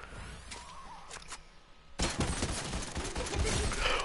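Gunfire in the Fortnite video game starts after a quieter moment with a few faint shots, then breaks into a loud, dense burst of rapid shooting that continues to the end.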